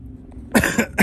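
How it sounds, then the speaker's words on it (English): A couple of quick, close coughs in rapid succession, sharp and harsh. "Excuse me, I'm coughing"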